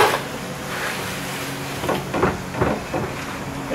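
Thomas C2 24 electric door operator with its arm swinging closed, a series of soft mechanical clunks and knocks over a low steady hum, fairly close.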